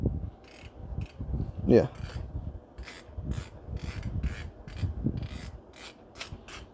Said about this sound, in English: Oh, and then you wind it through here.